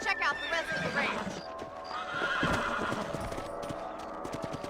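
Horse in the Red Dead Redemption video game neighs and whinnies near the start, then hooves clip-clop steadily through the rest, mixed with game ambience and speech.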